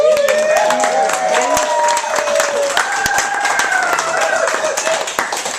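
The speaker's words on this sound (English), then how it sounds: "a round of applause to Brad and Tammy for having" Guests at a house party clap and cheer, a burst of applause mixed with excited voices and chatter close by.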